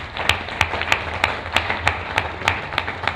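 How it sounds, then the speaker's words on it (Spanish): A church congregation claps in a steady, even rhythm, about three sharp claps per second, sounding like a modest group applauding together in a hall. "Aplauda fuerte en esta mañana al Señor"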